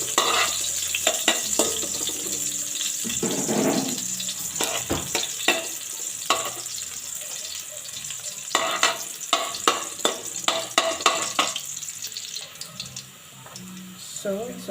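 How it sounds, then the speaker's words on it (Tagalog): Garlic sizzles steadily in hot oil in a pan for bihon guisado, a Bicolano noodle dish, with running tap water and stirring or scraping clatter mixed in throughout. "Ilalagay na natin itong bawang or garlic."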